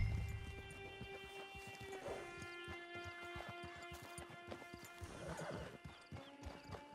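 A horse in Red Dead Redemption 2 whinnies and snorts while its hooves clip-clop steadily at close range, with faint crunching underfoot.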